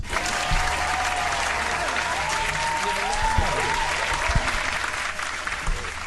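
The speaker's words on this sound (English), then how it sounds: "Had to hit him with the fucking applause." Canned applause track dropped into a live podcast show, steady and moderately loud throughout, with faint voices and a few thumps underneath.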